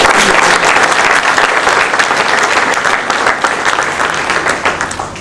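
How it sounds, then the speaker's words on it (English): Loud, sustained applause from a large crowd, steady clapping that tapers off slightly toward the end. "Let's do another round of applause."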